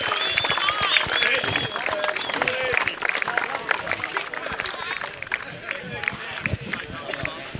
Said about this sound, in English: Give them a round of applause for their great win today.